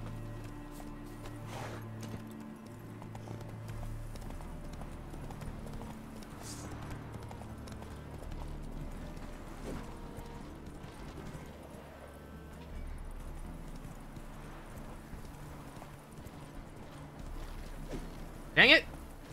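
Hooves of a galloping horse in The Witcher 3 video game, a rhythmic clip-clop running steadily beneath game music and ambience, with a brief louder hit near the end.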